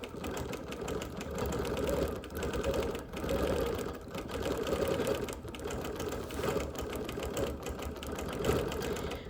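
A sewing machine quilts a show quilt with So Fine thread, running in a steady rapid stitching rhythm with brief pauses, moderately close and alone.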